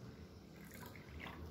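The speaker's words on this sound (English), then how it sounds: "So I will again put water in another glass" Water is poured into a glass for a science activity, a soft brief trickle and splash heard up close and fairly faint, with no talking.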